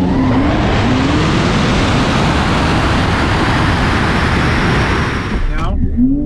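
Tesla Model S Plaid on a drag strip, a loud continuous roar of road and wind noise inside the car, rising tyre and motor whine with a sharp shift near the end.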